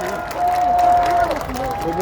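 A crowd at an outdoor presidential campaign rally in front of Seoul City Hall applauds and cheers steadily throughout, a dense wash of clapping with a voice speaking over it.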